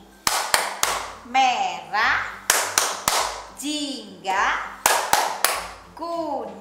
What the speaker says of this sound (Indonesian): Bunda kasih tepuk pelangi.